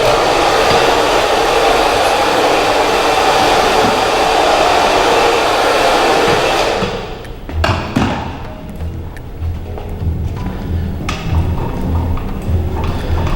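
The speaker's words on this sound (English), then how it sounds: "Okay, blow the hair off." A hair dryer blows loose hair off after a dry layered haircut, a loud steady roar for several seconds, then it cuts off, leaving soft scissor and handling noises nearby.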